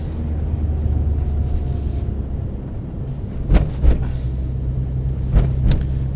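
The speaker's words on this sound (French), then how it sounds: "Cette petite sonorité quand même du 4 cylindres qui est bien expressif" Peugeot 205 GTI four-cylinder engine and exhaust on the move, a low steady rumble from inside the car, broken by a few short, sharper bursts and bumps later on, with no talking.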